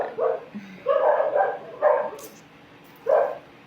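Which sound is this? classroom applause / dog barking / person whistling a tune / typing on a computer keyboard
dog barking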